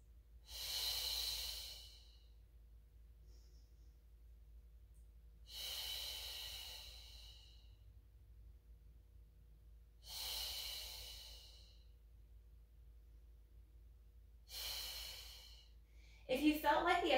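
Slow, deep breaths during a Pilates mat exercise, four long airy exhalations evenly spaced about four seconds apart with near silence between, ending in a brief rustle.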